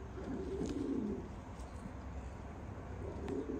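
Pigeons cooing softly in low, rolling bursts, with a faint background hum and some light rustling nearby.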